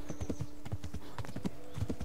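Horse hooves clip-clop in a steady, quick walking rhythm in the video game Kingdom Come: Deliverance, quiet and close with no speech over them.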